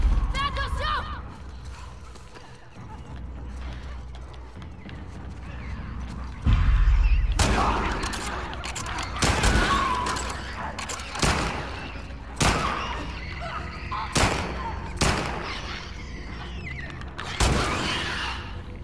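Combat gunfire in The Last of Us Part II, a series of sharp, loud shots spaced irregularly after a quieter stretch, with mechanical clanks and thuds between them and a player talking over parts of it.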